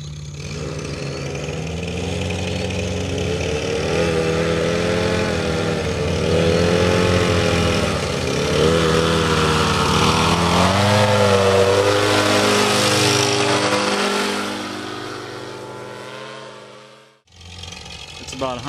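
A paramotor engine, still cold just after takeoff from water, drones steadily with a shifting, rising and falling pitch as it climbs away, loud throughout before cutting out near the end.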